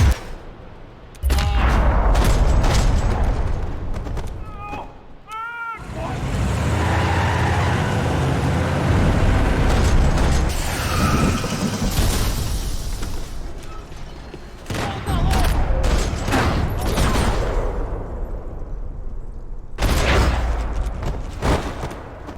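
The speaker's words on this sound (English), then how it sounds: "Another parking lot rattling with gunfire." Bursts of rapid gunfire crackle loudly in several stretches, with short pauses between, under engine and mechanical clatter, in the video game Max Payne 3, in a parking lot.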